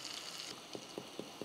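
Green chili, asafoetida, turmeric, mustard seeds and cumin sizzle faintly in hot oil for a tempering, a soft steady hiss with a few light, evenly spaced ticks of a spoon against the pan.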